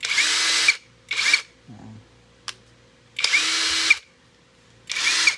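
A Tio Moon impact wrench loosening and removing a fastener rattles loudly in four hard bursts with short pauses between, and someone speaks briefly in one of the gaps.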